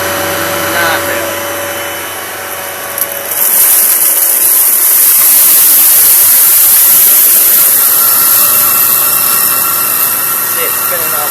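A Kenmore 600 series bagless vacuum cleaner sucking up sand, loud and close; its steady motor whine jumps to a harsher, higher roar partway through and keeps running, with a voice speaking over it.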